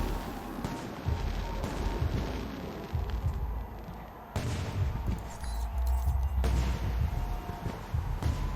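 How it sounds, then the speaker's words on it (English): Fireworks bursting in the Alpha Protocol video game during a Taipei mission, heard as a continuous barrage of booming, crackling explosions that rumble at steady loudness for several seconds with no speech. "The noise from those fireworks should cover the sound of gunfire."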